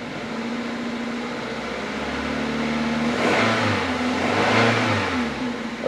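A cold Toyota car engine with a misfire idles with a low hum at around 1000 RPM, then revs up twice, rising and falling in pitch, close and loud with no talking.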